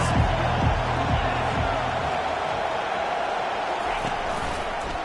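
Football stadium crowd roaring steadily on a big third down, a dense broad wash of distant cheering with a few low thumps at the start, under a commentator's voice.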